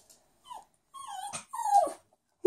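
A puppy stuck in its bed whimpers and whines in a few short, high, wavering cries with pauses between them, close and alone.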